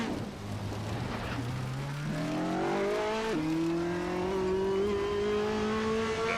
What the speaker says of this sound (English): The GT2 Ferrari is very, very much harder to control than the GT3.